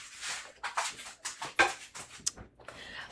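A dog whimpers indoors in a series of short, high, breathy whines and squeaks, fairly close and soft, with brief pauses between them.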